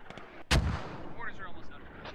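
One heavy mortar round fires in the military game Squad, a sudden booming thump followed by a fading rumble, with faint distant gunfire crackling behind it.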